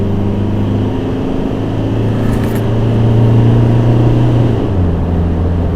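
A noisy Isuzu X-Rider pickup engine pulls uphill, a loud, steady low drone from inside the cab with a pitch that climbs slowly and then drops near the end as it shifts, with no voices.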